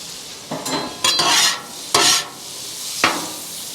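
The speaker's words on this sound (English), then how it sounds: "First thing I'm gonna do is get some butter down and fry up some onions." Onions cooking in butter on a warm flat-top griddle for smash burgers, with loud bursts of sizzling and scraping spatula strokes in a few distinct surges, close by and without talk.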